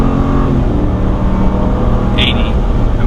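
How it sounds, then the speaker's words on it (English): A 2020 RAM 1500 Laramie pickup with e-torque accelerates hard, its engine a loud continuous low roar heard from inside the cabin, with a brief higher tone near the end. "Overall acceleration in this truck is really good."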